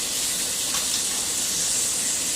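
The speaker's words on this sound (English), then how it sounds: "now we're going to place our 4 strips of bacon" Steady, bright hiss of bacon sizzling in a frying pan, constant and close, with no talking.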